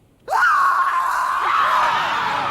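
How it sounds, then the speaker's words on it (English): A woman's long anguished scream from the film The Last Temptation of Christ, bursting in suddenly after silence and holding loud and sustained, with a brief dip and renewed cry midway. "And then we hear a scream."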